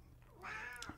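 A house cat gives a single short meow, faint and nearby, rising then falling in pitch in a quiet room.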